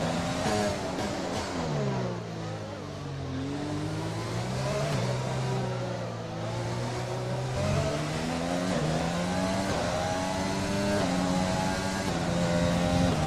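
A Formula 1 race car engine in the F1 2020 racing game at Monaco wails continuously, pitch rising and falling through gear changes as the car accelerates and brakes through corners, loud and alone.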